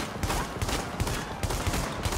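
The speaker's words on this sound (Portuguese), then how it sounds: "Ela consegue atirar muito rápido, ó. 14 balas vai muito rápido, ó." An SASG rifle in the video game The Division fires in a rapid run of sharp, evenly spaced shots, a dense burst of gunfire lasting a couple of seconds with no talking.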